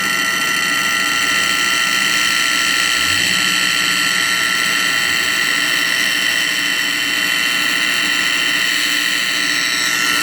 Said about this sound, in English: we see the sparks coming out of the side of the machine, and we're going to do this for a few minutes until the sparks stop